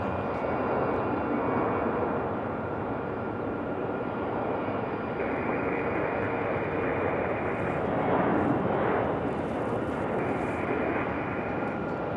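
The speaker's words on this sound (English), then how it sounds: "This E190 here for JetBlue, making their way out." A JetBlue Embraer E190 jet taxis out for departure at Raleigh-Durham airport, its engines giving a steady, fairly loud broadband roar with a faint whine that holds across the whole stretch, swelling slightly near the end.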